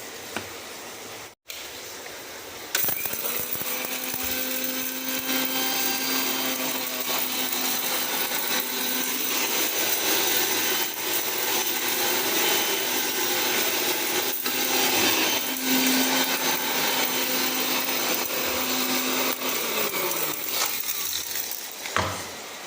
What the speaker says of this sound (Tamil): இதை நம்ம அரைச்சி எடுத்துக்கலாம் ஒரு மிக்ஸி ஜாரில்